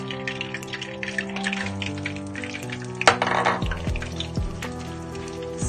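Eggs fry in hot cooking oil that pops and splatters in a steady sizzle, with scattered crackles and a louder burst of spitting partway through.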